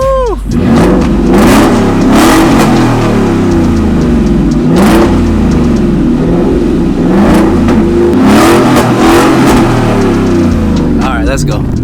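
A Ford F-150 with a Borla Atak exhaust and catted Y-pipe revs loudly and repeatedly, its deep engine roar swelling and falling in close, aggressive bursts while people talk and exclaim over it.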